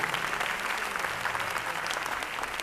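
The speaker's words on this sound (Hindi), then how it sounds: "अपने एक जोरदार ताली बजाइए आप लोग" A seated audience at a Kolkata success-story seminar claps hard and continuously, a dense, even patter of many hands that holds steady throughout with no voice on top.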